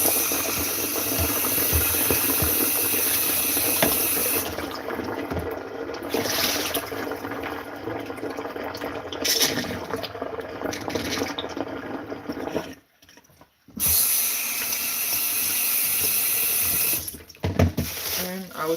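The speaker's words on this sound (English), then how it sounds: "And I'm going to pour this water." Water runs from a tap into a kitchen sink during cooking, a steady loud rushing splash that briefly cuts out near the end before flowing again.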